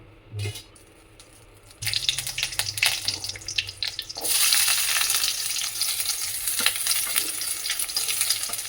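A sambar tempering of ghee with mustard seeds sputters in a pan: a quiet start, then sizzling bursts that swell into loud, continuous crackling frying, close by and with no voices.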